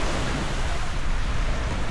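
Surf washes steadily at a surfing beach in San Juan, La Union, with small, mild waves making a broad, continuous hiss and rumble that stays loud and even throughout.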